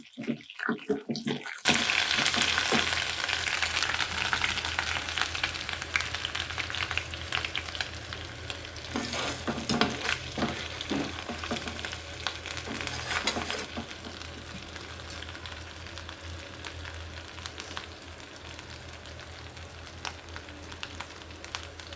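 Ginger-garlic paste frying in hot oil for a prawn avakaya pickle, a steady, close sizzle with stirring scrapes that fades a little toward the end; a voice is faintly present.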